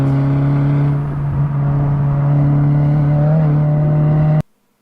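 A race car engine, recorded onboard from the back of the car, holds a steady loud whine through a corner with the revs briefly rising, then cuts off abruptly near the end.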